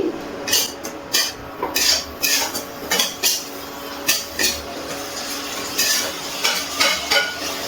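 Onion sautéed with green chili and garlic paste for a Bengali potol korma, a metal spoon scraping and clinking against the pan in a brisk repeated rhythm over a low sizzle, close and fairly loud.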